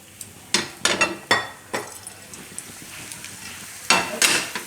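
Besan bajra pudla cooks in oil on a pan, a soft sizzle running under sharp clinks and scrapes of a spatula against the pan, with several quick taps close up.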